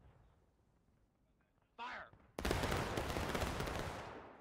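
Musket volley fire in War of Rights comes as one sudden, loud, massed crash of many rifles firing almost together, followed by a long rolling roar of scattered shots and echoes. A voice shouts briefly just before it.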